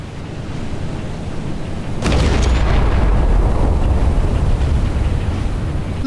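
Naval guns fire in the Battleship Command game from MicroProse, a single sudden loud boom that settles into a sustained rumbling roar with wind-like noise and no voices.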